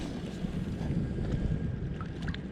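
Steady west wind blows over a spring lake during crappie fishing, a continuous low roar of buffeting air and soft water noise with no gaps.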